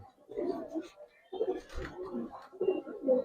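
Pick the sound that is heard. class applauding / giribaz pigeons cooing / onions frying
giribaz pigeons cooing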